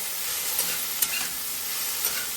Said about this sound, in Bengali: ঢেঁড়স ভাজা